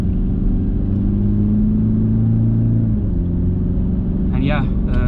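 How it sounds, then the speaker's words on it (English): A Toyota Fortuner Legender's engine hums steadily with a rising and falling rev note while the SUV takes a deep corner at speed, loud and constant under cabin rumble. "the engine gets a little vocal on the higher rev bands"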